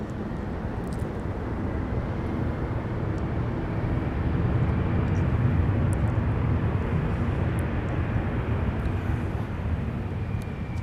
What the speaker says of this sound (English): we're going to switch focus to the Sun Country 737 that just arrived, exiting runway 30 left